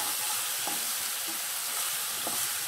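Eggplant (brinjal) sizzling steadily in a hot pan while being stirred, with a constant frying hiss and a few soft scrape clicks of the spatula, close and alone with no talking.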